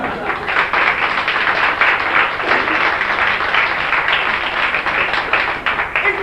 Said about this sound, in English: You may clap now if you wish.